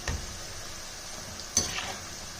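Meal maker pakodi frying in hot oil, a soft steady sizzle with a couple of brief sharper clinks or stirring scrapes over the low crackle.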